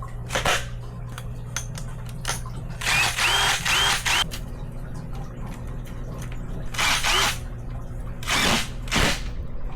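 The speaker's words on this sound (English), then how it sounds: "I want to drill a hole into the side of this towards the bottom so I could thread the pipe through it" A power drill bores a hole through the side of a plastic pond-filter container near its bottom, running in several loud, short whirring bursts with quiet handling between them.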